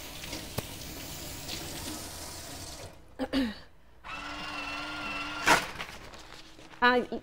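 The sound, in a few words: washing hands under running tap water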